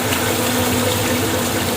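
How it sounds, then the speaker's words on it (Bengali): Water pours steadily into a biryani pot on a home stove, a loud continuous rushing gush that holds without pause for the whole moment, with no talking. "অল্প পরিমাপে পানি দিয়ে দিতে হবে"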